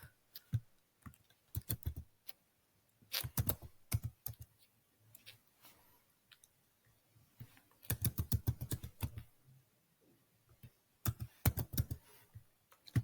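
Typing on a computer keyboard while entering a permission string, with clusters of rapid key clicks separated by quiet gaps, close and soft with no voices.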